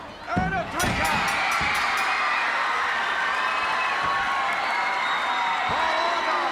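A wrestling crowd roars and cheers after a 3 count, a loud, sustained arena swell with a few thuds and whoops at the start and a commentator talking over it.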